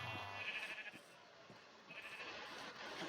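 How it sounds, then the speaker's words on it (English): A baby brown sheep in the Minecraft video game bleats in a few short wavering cries, faint and fairly close against a soft game background, with no talk. "Oh, it's a baby brown sheep."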